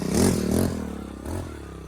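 A tractor revs hard while pulling a trolley stuck in soft ground, a loud, close, rough engine roar that surges and eases in pitch over a couple of seconds.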